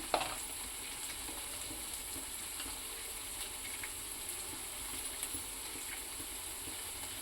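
Crab curry (Andhra-style pulusu with salt and chilli) being stirred in a pan, a steady low sizzle with soft scraping and clinks running throughout, close and alone with no talk.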